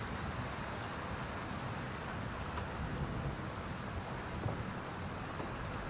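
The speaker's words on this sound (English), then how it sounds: "Oh, it's more than rain. It's like a thunderstorm." Rain pours during a thunderstorm in the video game Skyrim, making a continuous hiss of falling water with a low rumbling bed that stays steady throughout, with no voices.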